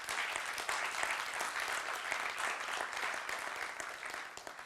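Audience at a tourism fair in Dolenjske Toplice applauding, a dense, steady burst of many hands clapping that holds for several seconds, then eases slightly.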